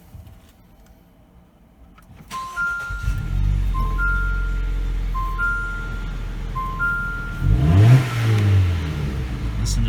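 A 2018 Jeep Renegade fitted with a performance intake and exhaust starts up and settles into a revving engine rumble while a repeating in-cabin warning chime sounds; a voice briefly speaks near the end.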